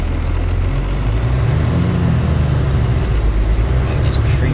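A 1996 12-valve Cummins truck hauling a 37-foot camper creeps uphill in first gear, its steady low diesel rumble loud and continuous throughout.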